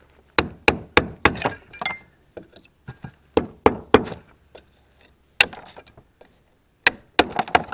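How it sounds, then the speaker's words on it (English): A hammer striking a chisel to knock out a soft red brick produces sharp, ringing metallic blows in uneven clusters, close and loud, with brief silences between the groups of strikes. "Get a hammer and chisel. Get rid of that one."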